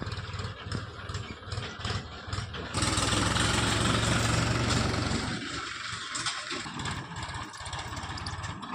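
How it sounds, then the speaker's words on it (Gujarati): A tractor that has arrived to haul bundled paddy sits running with a steady, close engine rumble that grows louder midway and then settles back. "તો મિત્રો ટ્રેક્ટર આવી ગયું છે"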